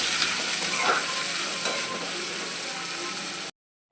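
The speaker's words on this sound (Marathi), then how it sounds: "त्यासाठी आपण जिरं मोहरीची फोडणी घातली आहे आणि आता कांदा मिरची घालणार आहे." Chopped onion and green chili hit a hot cumin-and-mustard-seed tempering for a lentil usal, giving a steady close sizzle with light stirring scrapes that cuts off abruptly near the end.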